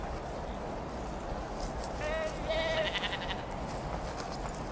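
A sheep gives two clear, wavering bleats close by, one straight after the other midway through, over a steady low outdoor rumble with no talk.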